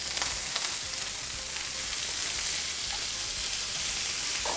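Food sears in a very hot pan in a restaurant kitchen, giving a steady, loud, broadband sizzle that holds for the whole stretch, close by and with no talking over it.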